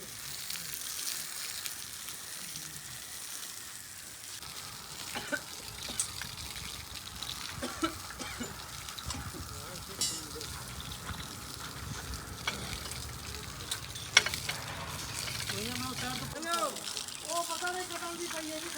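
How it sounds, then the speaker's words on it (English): A soft, steady hiss of termite chemical spraying onto soil continues throughout, with faint scattered knocks and clicks in the background. "We're just doing a termite spray."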